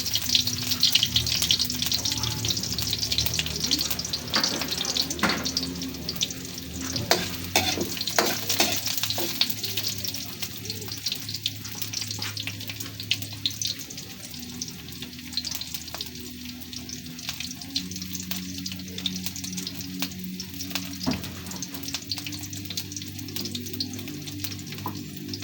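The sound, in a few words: sautéing garlic and onion in a pan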